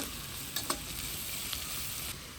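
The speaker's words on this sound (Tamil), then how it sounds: "வெங்காயத்தை போடுவோம். கொஞ்சம் உப்பை போடுவோம் கெரியாக வதங்குறதுக்கு" Onions with salt sauté in a pan for egg rice, a soft continuous sizzle with a couple of light stirring taps near the start, close but fairly quiet.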